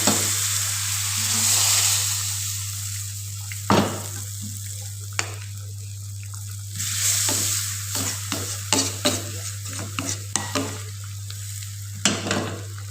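Dal with drumstick and mango is ladled into a hot pan and stirred, a loud continuous sizzle and frying hiss broken by repeated scraping and knocking of the spoon against the pan.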